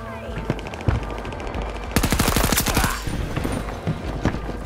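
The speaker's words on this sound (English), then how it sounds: "Just took out a fucking vehicle and mounted fucking minigun." A vehicle-mounted minigun fires in a first-person shooter game, a loud, rapid burst of gunfire about one second long, with scattered single shots and distant battle noise around it.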